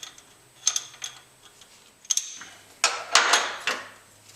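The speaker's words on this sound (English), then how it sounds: "Take our open-ended wrench," An open-ended wrench works on the valve clearance of a 1991 Honda Prelude engine, giving sharp metallic clicks and ratcheting taps in irregular bursts, close up with faint mechanical ticking and no voices.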